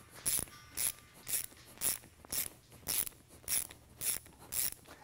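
A Motion Pro Jumbo chain tool pushes a pin through a chain, making about nine evenly spaced ratcheting clicks from a wrench turning, each a short sharp mechanical burst close by with no voices.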